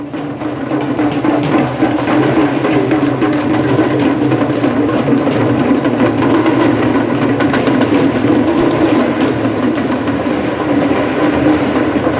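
A train runs steadily on rails in India, heard from onboard as a loud, continuous low rumble with faint rhythmic clatter throughout, and no talk.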